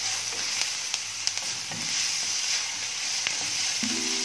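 Garlic-ginger paste, green chilies and onion frying in a pan over a medium flame, a steady close sizzle broken by the scrape and tap of stirring.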